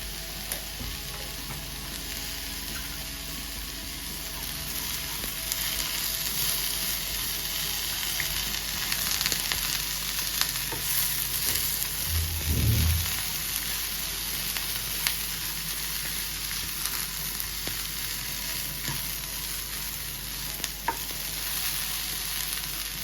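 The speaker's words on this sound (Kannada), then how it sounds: "ಚೆನ್ನಾಗಿ ಫ್ರೈ ಮಾಡ್ಕೊಳ್ಳಿ." Chicken pieces frying in a pan with turmeric for a village-style chicken sambar, a steady close sizzle with a broad hiss and occasional clinks and scrapes as it is stirred, no talking.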